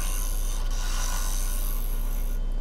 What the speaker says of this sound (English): just make a few final cuts on the side, just trying to get as smooth as possible